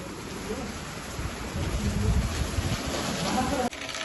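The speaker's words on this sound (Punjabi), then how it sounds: "ਮੀਂਹ ਸੋਹਣਾ ਹੋ ਗਿਆ ਫੇਰ ਪੈ ਗਿਆ ਪੂਰਾ ਜ਼ੋਰ" Heavy rain pours down on a Punjab farm in a steady, dense hiss that swells slightly midway and holds at full force throughout.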